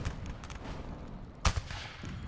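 Musket fire from colonist troops in the Rise of Liberty battle game, heard as low distant rumbling shots and then one loud sharp crack near the middle, followed by a softer echoing report.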